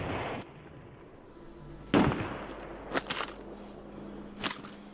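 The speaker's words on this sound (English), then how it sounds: "Airstrike right here on the roof" Airstrike explosions in Call of Duty Warzone land on a rooftop as a series of sharp, close blasts, one heavy hit followed by a couple of smaller bursts and a final crack, separated by quieter stretches.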